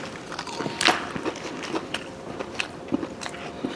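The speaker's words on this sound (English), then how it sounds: "the first thing we're gonna try is the macaroni bites" Someone bites into Burger King macaroni bites, giving a close crunchy bite followed by soft, scattered chewing and crackling sounds with faint rustling in a quiet room.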